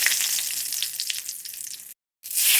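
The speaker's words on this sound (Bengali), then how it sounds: "কালো জিরা ফোড়ন দিয়ে দিলাম একটা শুকনো লঙ্কা" Nigella seeds and a dried red chili frying in hot oil, a bright crackling sizzle with small pops, loud and close, cutting out briefly before resuming just as strongly.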